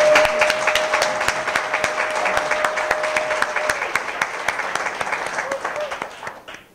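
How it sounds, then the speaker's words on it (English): An audience at a county awards event honoring great women in history breaks into sustained applause for the county executive, dense clapping that holds steady and fades toward the end with no talk over it. "if we can get a round of applause to the man who made this possible"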